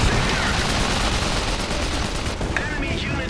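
Battle gunfire from the real-time strategy game Iron Harvest sounds as a dense, continuous barrage of rapid shots and rattling bursts, loud and unbroken across the whole moment.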